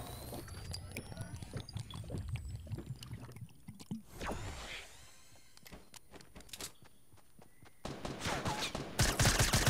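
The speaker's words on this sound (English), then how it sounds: "I'm shooting at him with the suppressed SMG" Suppressed SMG gunfire in a Fortnite player-versus-player fight, rapid bursts of muffled shots mixed with game effects and shouting voices, growing louder toward the end.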